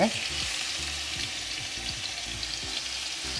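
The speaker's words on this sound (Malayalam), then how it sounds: "ജസ്റ്റ് ഒന്ന് ഷാലോ ഫ്രൈ ചെയ്തെടുത്താൽ മതി" Chicken pieces shallow-frying in oil for a home-cooked chicken biryani, a continuous close sizzle and bubbling with low clinks and stirring underneath, and brief faint voice.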